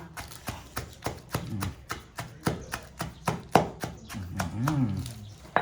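Stone mortar and pestle pounding chili curry paste, a steady run of sharp, close thuds about three per second, with brief muffled voice sounds between strikes.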